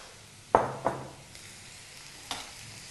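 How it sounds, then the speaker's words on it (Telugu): Onion and capsicum pieces frying in oil for a capsicum tomato curry, heard as a few soft sizzling bursts and stirring scrapes, two close together near the start and one later, fairly quiet with no talking. "ఉల్లిపాయ ముక్కలు వేగుతుండగానే మనం ఇందులో క్యాప్సికమ్ ముక్కలు కూడా వేసేసుకోవాలి"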